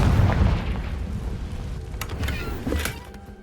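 A Confringo explosive spell cast in Hogwarts Legacy, a low booming blast with crackling bursts that fade over a few seconds, followed by sharper bright cracks near the end.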